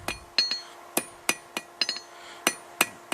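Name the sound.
hammer striking hot steel, forging a fire poker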